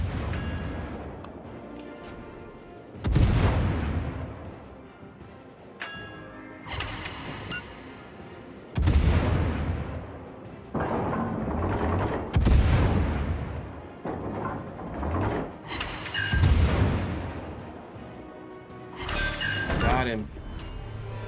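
Naval guns of a World of Warships ship firing on an enemy cruiser: heavy booming salvos roughly every few seconds, each followed by a rolling rumble, with someone talking over the barrage.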